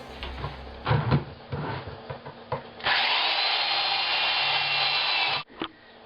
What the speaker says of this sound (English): drilling holes in the bucket now so that flies can get in and maggots can get out